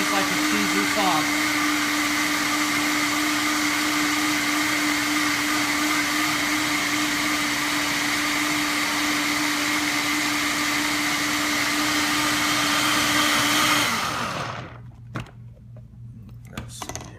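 A blender runs on high, whirring steadily and loudly as it purées nuts into a smooth, cheesy vegan mac and cheese sauce, then cuts off abruptly, leaving quieter kitchen sounds.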